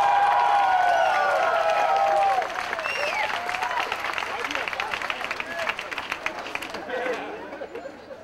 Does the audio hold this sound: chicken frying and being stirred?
no